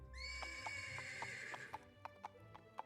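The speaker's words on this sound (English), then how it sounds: "there must be at least one horse here." In an otome roleplaying video game, a horse whinnies loudly and clearly, followed by a steady series of hoof clip-clops that keep up an even rhythm.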